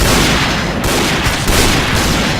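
Gunfire in the shooter game Point Blank: loud, dense rapid shots that merge into a continuous rattling barrage with heavy booms, close and dominant.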